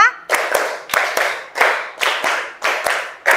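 Classroom children clapping a patterned rhythm, loud close-up claps in repeated quick bursts with short gaps between them, no talking.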